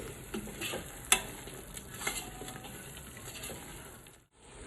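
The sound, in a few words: stirring and frying biryani masala on medium flame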